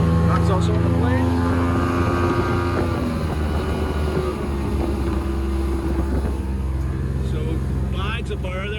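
A Trophy 1802 WA boat with a Mercury 115HP OptiMax outboard running hard while up on the plane, a loud, steady engine drone with rushing water and wind, with someone talking over it.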